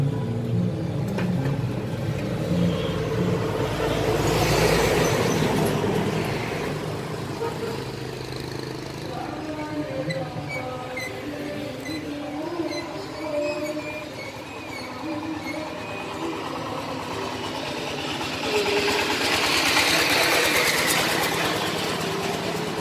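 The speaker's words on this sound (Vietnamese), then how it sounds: "Động cơ em này thì 6 máy rồi." An Iseki 9510 tractor's six-cylinder diesel engine runs steadily nearby, a continuous low rumble that swells slightly at the start and again toward the end.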